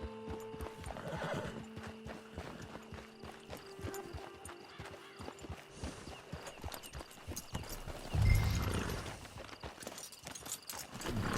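Horse hooves clip-clopping at a walk with a loud neigh near the end, set at a camp in the Red Dead Redemption 2 video game; steady game ambience and background music continue throughout.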